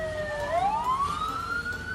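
A fire engine siren wails with a rising, sweeping tone during a fire response in Balikpapan, East Kalimantan, heard clearly and continuously for two seconds with no talk.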